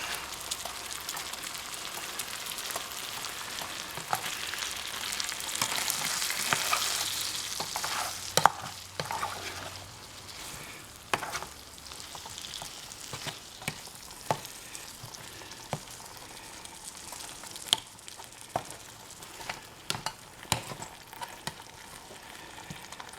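Corned beef frying in a pan with a steady crackling sizzle that swells loudly early on, then settles into a quieter hiss punctuated by sharp spatula taps and scrapes.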